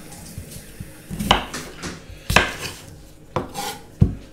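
A knife quartering small potatoes on a chopping board: several sharp, separate thunks spaced about a second apart, close and fairly loud, with faint kitchen clatter between cuts.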